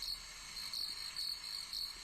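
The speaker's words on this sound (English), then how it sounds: "I wanted to give something that's, pleasing for the ears of our audio audience. So I thought crickets." Steady cricket chirping used as a trivia quiz buzzer sound, a continuous high-pitched trill pulsing in regular bursts, fairly faint and heard alone without any talk.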